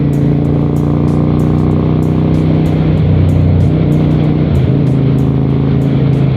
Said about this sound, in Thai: แต่เสียงท่อนี่เพาะมากเลย